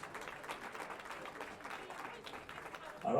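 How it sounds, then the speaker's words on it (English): A small crowd at a powerlifting meet gives a gold medalist another round of applause, a quiet, even patter of clapping with a louder sound at the very end. "One more round of applause for Bill Stevens."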